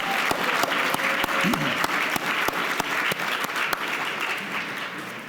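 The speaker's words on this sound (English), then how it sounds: "Let's give them a big round of applause." An audience at a Martin Luther King Jr. Day writing awards event applauds drama school students after their performance, steady moderately loud clapping with a few sharper nearby claps throughout.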